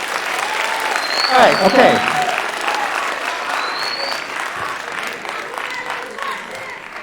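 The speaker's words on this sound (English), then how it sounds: "that was my first like thunderous applause" Thunderous applause from an audience at a school writers' event swells into loud, dense clapping and then slowly thins out, with cheers and a person's voice speaking briefly over it.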